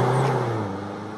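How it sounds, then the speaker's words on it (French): Inside a boxy car with very large tyres and M Sport Adaptive Professional suspension, a steady low rolling rumble from the tyres on the road, with a faint tonal hum that eases slightly and no voices. "On entend un peu les bruits de roulement, mais ça c'est dû à ces énormes pneus qui sont en contact avec la route"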